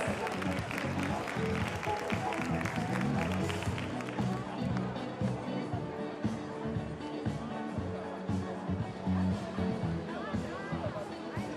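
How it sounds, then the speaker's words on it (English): Crowd applause and cheering fill a hall at a FIBA 3x3 Asia Cup basketball session in Singapore, a steady roar of clapping with babble and an announcer's voice over it. "big round of applause for our winners."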